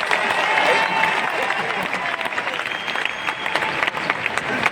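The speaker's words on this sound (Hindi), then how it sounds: "अरे ताली तो बजा दो।" Sustained audience applause at an SLPS Wellness business seminar, steady dense clapping from a large indoor crowd that continues evenly for several seconds.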